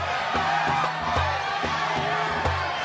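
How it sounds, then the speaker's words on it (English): An animated crowd cheers as Jesus enters Jerusalem, a busy mass of voices shouting and whooping at moderate distance, with a louder burst right at the end. "The people cheer at him."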